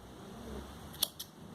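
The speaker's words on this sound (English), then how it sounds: "Do chain 1 and snip off this yarn" Scissors snip through crochet yarn in two quick, crisp, close cuts in a quiet room.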